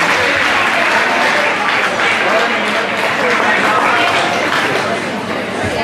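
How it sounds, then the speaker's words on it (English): A ballroom audience applauds Latin dance finalists at an adult recreational open competition, a loud, dense and continuous wash of clapping with some crowd chatter mixed in. "give them a round of applause, ladies and gentlemen"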